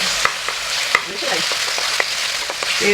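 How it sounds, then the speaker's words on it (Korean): Lean pork fillet sizzles and crackles in generous hot chili oil, a steady stir-frying hiss with scattered sharp pops and utensil clicks throughout. "고기 투하"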